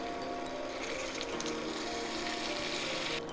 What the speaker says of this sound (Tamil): ஸோ தேவையான தண்ணி விடலாம்.